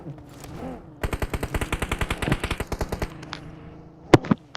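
Rapid machine-gun fire in a video game rattles off in a steady burst of about twenty evenly spaced shots, loud and close, followed by two sharper single shots, with a voice briefly heard just before the burst.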